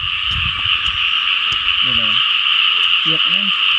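Frogs croaking from captive frogs kept in a container, several distinct low croaks in short bursts over a constant high insect-like drone, with a soft human voice at the start.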